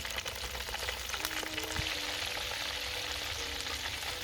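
Wiener schnitzel fries in a pan on a Trangia camping stove outdoors, giving a steady, fairly soft sizzle and crackle throughout with no talking.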